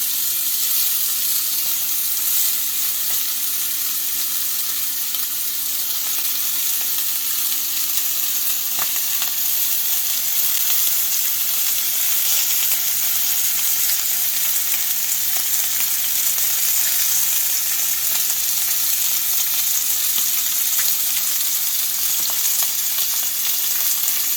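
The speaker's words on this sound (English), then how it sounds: "And now in my cast iron, I have olive oil and then rosemary as well. And then just put in your lamb." Lamb chops sear in olive oil with rosemary in a cast iron pan, giving a steady, loud, close sizzle and frying hiss that runs unbroken throughout with no voices.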